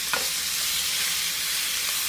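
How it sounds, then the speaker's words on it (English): Onions frying in a pan for chicken curry, a steady bright sizzle with faint scraping of a stirring utensil, close and continuous with no talking. "what you want to do is just give it a good stir"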